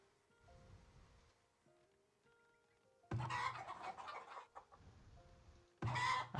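Chickens cluck in the farming settlement of the video game Farthest Frontier, with short clucks over quiet game music and louder bursts of clucking and farm noise near the end.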